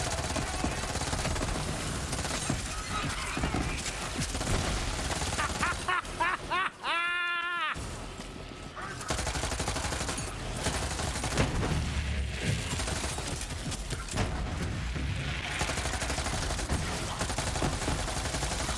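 Gunfire in the video game Borderlands 3, dense rapid shots and bursts over loud game sound and music, with a brief gap partway through before firing resumes.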